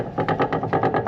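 A rhythmic grinding knock from the differential of a Nissan 350Z with wheel play, pulsing evenly several times a second, close and fairly loud with no talk.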